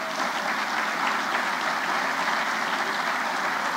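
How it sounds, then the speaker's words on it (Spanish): Audience at a book talk in a tent gives a steady, even round of applause, many hands clapping together at moderate volume with no talk over it. "Sí, sí, hay que aplaudirle."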